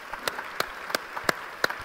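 Audience applause at the 2016 EPBF forum: a short burst of scattered hand claps, sharp broadband taps spaced at a steady, sparse rhythm, fairly faint and heard alone with no talking.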